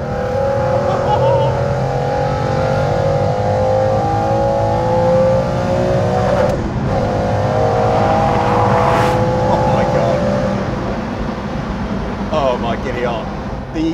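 A very fast British car engine revs up and down in loud, sustained sweeps, its pitch climbing and falling with sharp throttle response on downshifts, heard close and steady.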